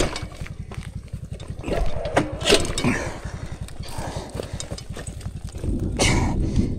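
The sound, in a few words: engine idling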